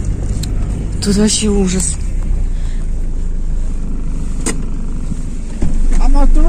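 A car rumbles steadily along a rough, bumpy road on the outskirts, its low engine drone and jolts running throughout while someone talks over it, the noise swelling louder near the end.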